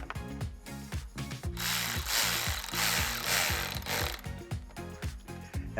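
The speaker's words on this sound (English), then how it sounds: "And tighten down that clamp as well." A hand ratchet clicks in quick repeated strokes while tightening a hose clamp on a cold air intake tube on a 5.7L HEMI Dodge Charger, close and clear. A brief hissing rush sounds midway through, and no one speaks.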